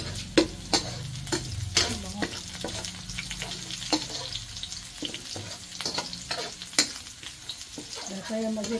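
Garlic sautés in a pan for creamy spaghetti, a steady close sizzle under repeated sharp scrapes and taps of a spoon stirring against the pan, with no voices.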